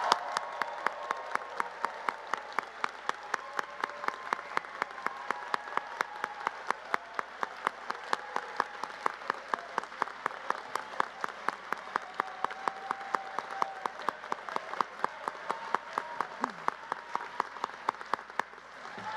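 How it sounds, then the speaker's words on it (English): Sustained applause from a large audience honouring graduates at an engineering master's hooding ceremony, dense steady clapping filling the hall for nearly twenty seconds without speech. "how about one more gigantic round of applause for all of our graduates?"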